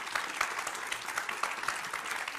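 Studio audience at a televised political debate clapping to welcome two speakers, a short burst of dense, moderately distant applause.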